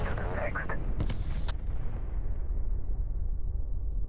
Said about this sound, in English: And just a cool explosion.